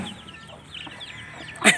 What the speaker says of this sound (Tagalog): Kamusta yung manok, Teo?